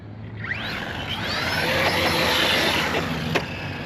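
A Team Associated MT8 RC monster truck runs on a 4S battery, its electric motor whining and rising in pitch as it accelerates, with a steady loud drive noise and faint gear and tire rumble.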